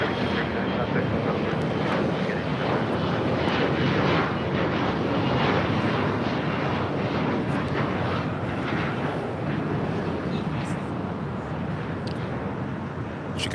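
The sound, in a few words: airliner engines on the runway at LAX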